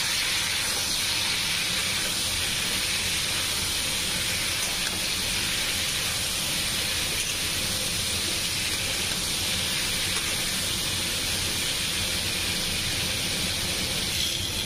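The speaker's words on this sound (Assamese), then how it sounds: "এইখিনি মই আলু পটলখিনি ভাজা বহাই দিছো" Potato and pointed gourd pieces, coated in turmeric and salt, frying in a pan give off a loud, continuous, even hiss like steam or heavy rain, close by and unbroken throughout, with no voices.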